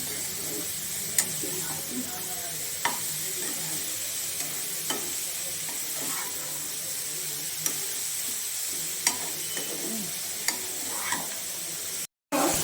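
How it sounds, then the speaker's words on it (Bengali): Carrots for gajar halwa fry in a pan with a steady low sizzle, while a spatula scrapes and taps the pan at intervals of roughly a second or two; near and moderately loud, briefly cut off near the end. "এইবারে আমি গাজরটা ভাজতে শুরু করলাম"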